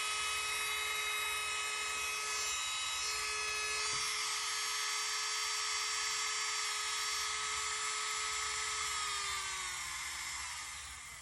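A pink Lavinda nail drill motor spinning at high speed gives a thin, steady, high-pitched whine close by, holding level and then winding down near the end.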